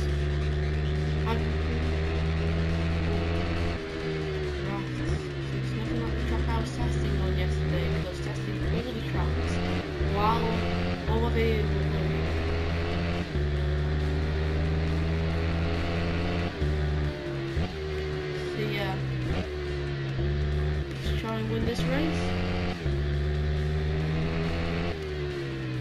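Continuous engine drone of a Ducati Streetfighter 848 naked motorcycle in the racing game RIDE, rising and falling through gear changes as it accelerates, loud and close for the whole stretch.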